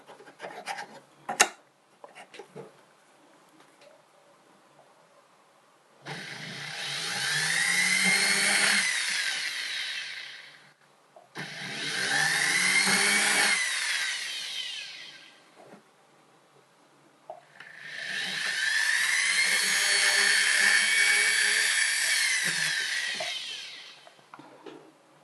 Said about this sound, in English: I'm just going to get my pendant motor with my drill bit, lubricate my drill bit,